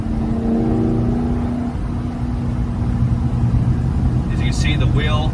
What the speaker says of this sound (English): even with the windows up, you can hear the sound of the motor from inside the car